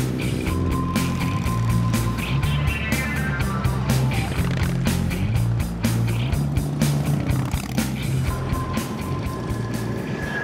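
A large group of over 170 motorbikes riding out together along the A19 towards York, a dense, continuous roar of many engines with rising revs and passing bikes, nearby and loud throughout.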